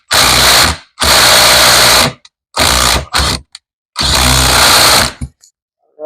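A Milwaukee power tool whirs loudly in four bursts of varying length, driving a small Harbor Freight bit against a part on a GM steering box, with a buzzing, rattling motor tone and short silences between bursts.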